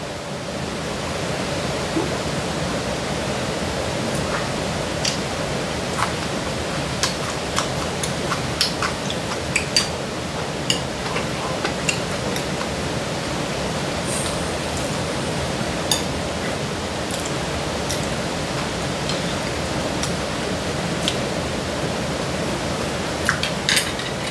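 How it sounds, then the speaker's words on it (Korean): Steady rain falls on a rainy day in Korea, a dense, even wash of patter with scattered sharper drips and taps on top, continuous and fairly close, with no talking. "비가 오니까는 참 좋네."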